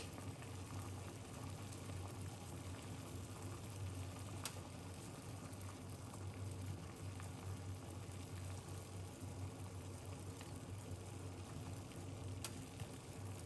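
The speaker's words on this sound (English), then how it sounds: "just making it boil a little bit" A pot of lemon and garlic mixture simmering on the stove, giving a steady low bubbling hiss that stays even and fairly faint throughout with no talk.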